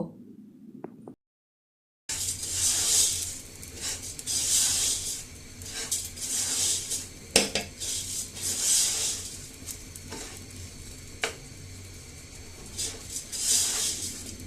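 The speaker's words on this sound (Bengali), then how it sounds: "যখন দেখবেন চালটা এইভাবে ঝনঝন শব্দ করছে তখন ভাববেন যে চালটা ভাজা হয়ে গেছে" Rice grains being dry-fried in a pot for morog polao, a close rasping, rattling scrape from repeated stirring that comes in waves after a brief silence.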